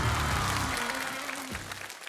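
Studio audience applause on a Chinese television variety show forms a broad, even wash of clapping with a low musical tone running underneath, tapering off near the end.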